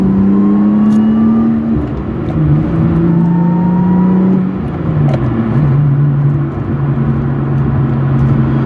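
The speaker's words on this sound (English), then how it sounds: "It revs so quick." A Lotus Evora S engine revs hard while accelerating on a test drive, a loud, steady in-cabin drone that climbs in pitch, dips briefly at each gear change, then rises again.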